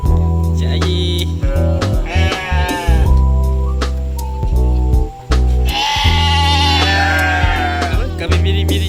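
Several sheep bleat loudly and close by at a mini zoo, overlapping cries with short breaks between them, and no clear talking.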